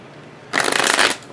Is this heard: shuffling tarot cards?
yes